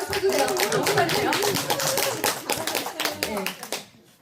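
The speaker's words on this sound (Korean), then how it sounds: "한번 박수 한번 쳐주세요" An audience at a group presentation claps in a loose burst of distinct hand claps that gradually thins out and stops, with some talk underneath.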